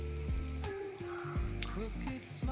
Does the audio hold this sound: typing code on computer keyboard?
no